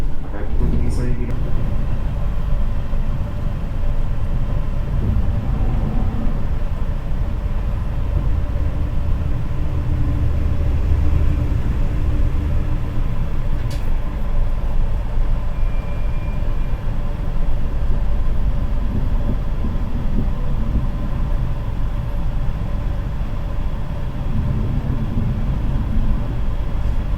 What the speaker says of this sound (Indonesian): welcome on board di kereta api Argo Lawu